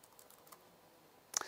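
A computer keyboard ticks with a few faint scattered keystrokes, then a short, sharp, close burst of typing at the very end in an otherwise quiet room.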